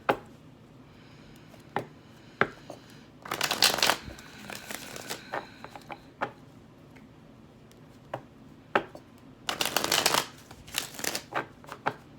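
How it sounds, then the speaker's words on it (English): Tarot cards are shuffled by hand with scattered single taps and flicks, then two bursts of riffle shuffling, each a rapid, close fluttering rush lasting about a second, with no talking. "Let's just do a couple more shuffles and then we will get into your reading, okay?"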